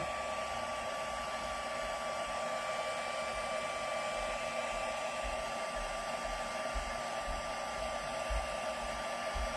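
A handheld heat tool blows steadily for gold embossing during crafting, a constant, close whirring hiss of fan and airflow that holds an even level throughout with no talking.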